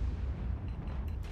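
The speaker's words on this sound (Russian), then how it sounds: "Выстрел в спину." Heavy artillery gunfire from the World of Tanks game, an Object 261 self-propelled gun, as a dense low rumbling boom that rolls on steadily through the whole moment without any talk.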